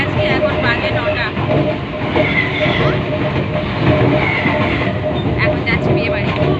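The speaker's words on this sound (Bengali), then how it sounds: "তো দেখো আমরা শিয়ালদা ট্রেনে বসে গেছি" Inside a moving Sealdah local train, a steady loud rumble of wheels and carriage noise with squealing tones and clatter, with voices chattering in the background throughout.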